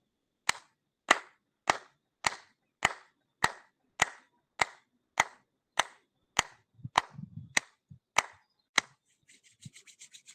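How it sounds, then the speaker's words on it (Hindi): Group clapping during an online yoga session: about fourteen sharp, evenly spaced single claps, crisp and close, followed by a brief burst of quicker rubbing or patting at the end. "और सभी जनों के लिए ताली बजा लें।"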